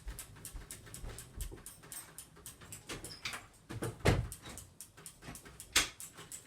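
Dogs panting and whimpering close by indoors as they come downstairs, with quick rhythmic breathy pants, thin whines and a soft knock or two.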